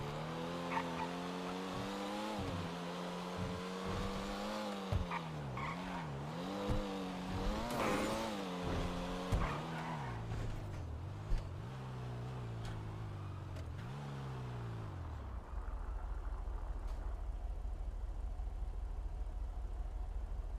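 A race car's engine revs and climbs through repeated gear changes with tire squeal and skidding, loud and close; the engine note drops away near the end, leaving a steady rumble.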